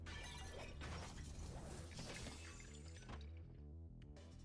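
Bones shatter and smash in a Fate/Stay Night visual novel battle, a loud burst of brittle cracking and splintering debris that rattles on for several seconds before thinning into scattered clatters.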